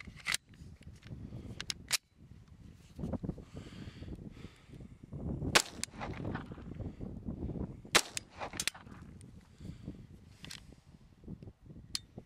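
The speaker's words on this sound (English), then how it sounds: "we're going to try the 22 Thunderbolt again. 15 rounds" A .22 Thunderbolt rifle fires a series of sharp, loud, close reports at irregular intervals, with handling clatter and rustling between the shots.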